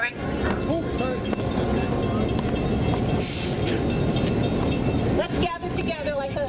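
Train passing a street crossing, a steady loud rumble and rattle of railcars with hiss and squeals throughout, people talking faintly under the noise.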